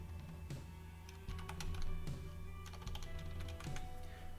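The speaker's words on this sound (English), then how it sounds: "we're just going to type in some random characters here" Quick, irregular keystrokes on a computer keyboard as random characters are typed into a WordPress installation form, soft clicks heard over a steady low electrical hum.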